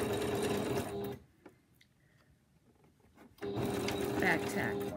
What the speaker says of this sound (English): I'm going to sew a little bit further because this is going to make the tail or the loop